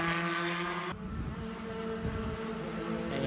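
A loud race car engine drones and roars as it passes close by at the Mid-Ohio circuit during an SCCA Super Tour race, with wind buffeting the microphone throughout.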